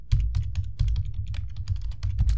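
Quick, steady keystrokes on a computer keyboard while entering text in an Excel spreadsheet, a soft continuous patter of clicks at close range with no talking.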